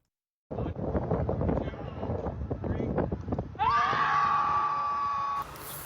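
Wind-buffeted outdoor noise and voices, then a Twin Cities scream club lets out one long, loud sustained scream together before it cuts off.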